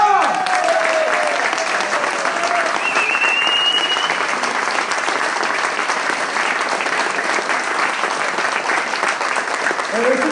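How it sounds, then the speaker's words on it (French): An audience claps for Catherine Renard at a keys handover ceremony, steady dense applause filling the whole stretch at close range, with voices faintly mixed in. "Mesdames et messieurs, vous applaudissez Catherine Renard."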